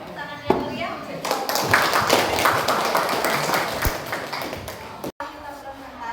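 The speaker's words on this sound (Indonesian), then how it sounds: "Beri tepuk tangan yang meriah" An audience in a classroom gathering claps together, a dense burst of hand clapping that builds quickly and carries on steadily, with a voice speaking over it.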